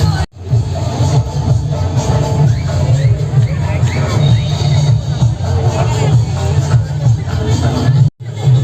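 Dense crowd hubbub fills a busy queue at a Kolhapur food festival in Bhayandar, a steady low roar of overlapping voices and chatter that runs without pause, broken only by one brief drop near the end.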